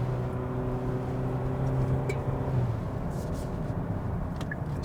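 A 2021 Hyundai Sonata N Line with an 8-speed wet dual-clutch transmission in Sports Plus mode, revving up at night, its steady engine drone swelling and then dropping as it shifts, heard from inside the cabin.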